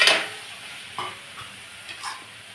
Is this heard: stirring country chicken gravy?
yes